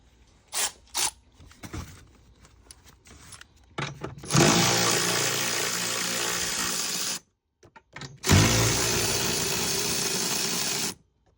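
Two long bursts of a power tool whirring close by as 13mm strut nuts come off a BMW E36 318ti, each several seconds of steady high-speed buzzing, separated by quiet gaps and a few short clicks and clunks.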